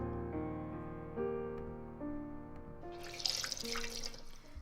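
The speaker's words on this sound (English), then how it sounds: "You return to the living room and wring out the excess water from a towel soaked in ice water" Water wrung from a towel soaked in ice water in the Bloody Painter dating sim, a short splashing, dripping pour near the end over steady synth music tones.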